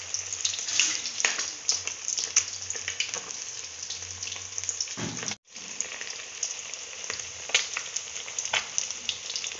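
Fish frying in a pan in a home kitchen, a steady crackling sizzle that runs almost without pause, breaking off for a moment midway, with no talking.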